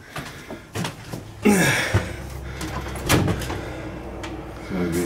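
An old door in an abandoned house creaks and knocks open with a couple of loud thuds, close by, amid rustling and footsteps; a voice speaks briefly.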